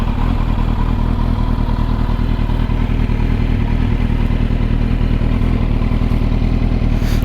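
A Kawasaki Z900 motorcycle fitted with an Akrapovic exhaust idles steadily and loud at close range, a deep continuous engine rumble with no voices.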